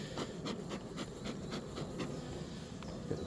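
Honey bees hum softly around hive frames during a beekeeper's frame swap, a faint, steady outdoor buzz with occasional soft rubbing and handling noises.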